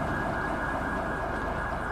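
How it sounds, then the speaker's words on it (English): A police siren in the video game GTA 5 drones steadily and loudly, with a constant, unbroken tone and a traffic rumble beneath it. "I hear the siren. They're responding to code 3 for sure."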